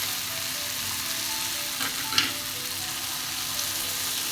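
Boiled amla (Indian gooseberry) mixture for homemade amla candy cooks in a pan with a steady close sizzle, marked by a brief scrape of stirring midway.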